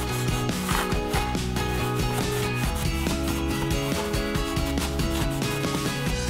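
Pharmacy rubbing alcohol on a cloth wipes marker marks off a surface in rapid, close, continuous rubbing strokes that stay steady and fairly loud throughout, with no talking.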